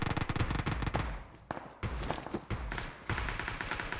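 Automatic gunfire in a mobile battle royale shooter, dense rapid bursts with heavy thumps filling most of the stretch, broken by two short pauses before the shooting resumes loud and close.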